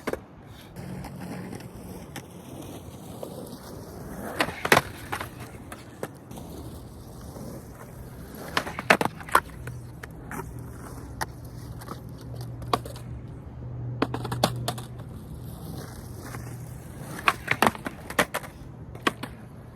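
Skateboard tricks, backside 180s, practised outdoors: scattered sharp wooden pops and clacks of board and wheels landing, with quieter rolling between them and stretches of near silence.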